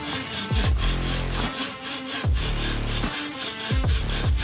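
A hand saw cuts through wood at a sawing contest in quick, even back-and-forth strokes, about two per second, loud and close with no talking.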